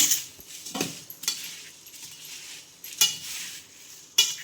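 Dry bhel ingredients are tossed and mixed in a bowl at home, giving bursts of rustling and a spoon clinking against the bowl every second or so, close and without talk.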